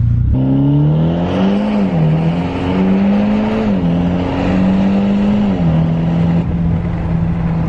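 A straight-piped Mitsubishi Lancer Evolution X MR exhaust drones loudly and continuously, with the engine pitch rising and falling through a few revs, heard up close with no talk.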